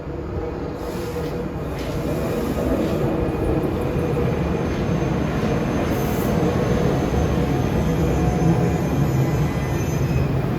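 The Princeton Dinky train at Princeton Junction rolls past with a steady, loud rumble that holds for about ten seconds, with wheel and track noise filling the station.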